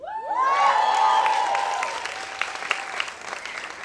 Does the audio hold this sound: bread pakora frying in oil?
no